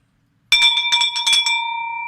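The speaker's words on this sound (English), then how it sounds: "Ring that bell for this." A hand bell rings in a quick burst of several clangs after a brief silence, then its bright metallic tone lingers and rings out.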